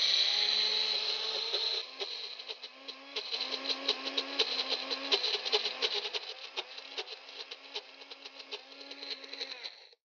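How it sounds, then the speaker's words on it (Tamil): Mixer grinder jar grinding soaked kodo millet, a high whining motor with rattling, pattering grains, loud at first and then settling into a fluttering pulsing grind that stops abruptly at the end. "மிக்ஸி ஜாரில் வந்து நான் இந்த ஊற வச்ச சாமையை நான் கொஞ்சம் அரைச்சிக்க போகிறேன்"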